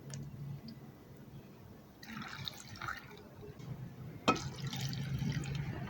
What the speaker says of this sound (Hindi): और सबसे आखिर में इसमें शामिल करेंगे हम 2 कप पानी।